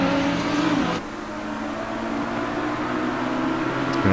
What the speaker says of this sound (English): Coming up to the Villeneuve chicane. Nice and neatly through there for both the McLaren and Audi.